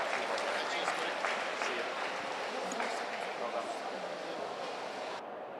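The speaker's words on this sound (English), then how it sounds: "Another big round of applause for the Washing Machines and all of the teams across the pool." Applause rises from the stands for relay teams at an indoor swimming pool during a short course championship, a steady, distant wash of clapping with an announcer's voice over it.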